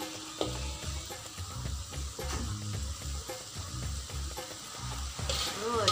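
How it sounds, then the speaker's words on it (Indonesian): Okra coated in flour fries in a pan for a stir-fry with minced chicken, a continuous close sizzle with soft scraping stirs, and no talk over it. "bila kita gorengkan dengan tepung bendi tu, dia tak jadi lendir"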